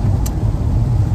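A car cruising along an expressway gives a steady, close low rumble of engine and road noise that holds constant throughout, with no voices.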